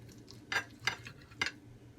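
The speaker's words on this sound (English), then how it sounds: "I don't have a little knife, so I'm definitely gonna cut my little piece here." Cutlery clinks against a plate three times while cutting a piece of chile relleno, with short distinct taps over a quiet low hum.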